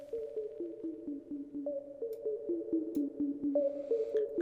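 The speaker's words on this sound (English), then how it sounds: "It's like a classic sine wave, but you can hear there is this slight pitch modulation which gives a dramatic effect." An Ableton Operator techno preset plays a clean sine-wave synth tone with slight pitch modulation. Short repeating notes step between a few pitches in a steady, looping sequence, heard alone and fairly quiet.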